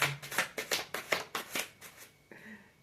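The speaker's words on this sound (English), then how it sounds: "I be trying to shuffle these index cards." Close, rapid riffling of stiff index cards: about eight quick papery bursts in a row, then a brief softer rustle.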